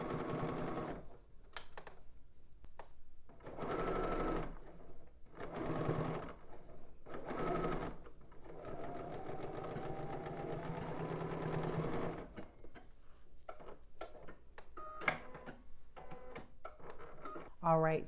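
A domestic sewing machine runs along a dress seam at the back, whirring in repeated bursts with short stops in between, close by, while someone talks over it.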